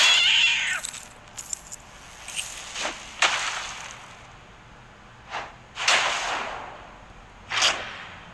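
Cat meowing in the Nonstop Chuck Norris video game, several loud drawn-out meows and yowls spaced apart over a faint background hum, with no talking.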